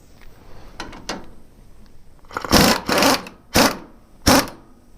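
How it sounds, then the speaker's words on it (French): Small power nut runner working on a seed drill, several short loud whirring bursts with faint mechanical clicks between them, close by and with no speech. "alors je vais le faire à la petite boulonneuse"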